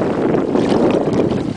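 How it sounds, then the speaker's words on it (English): Steady, roaring wind buffets the microphone on a boat out on the ocean off Shelter Cove, a continuous broadband rush with gusty swells. "A little windy"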